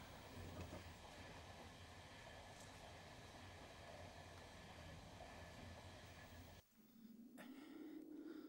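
A train rumbling along steadily with a continuous low roar, the sound briefly dropping away near the end before the rumble resumes.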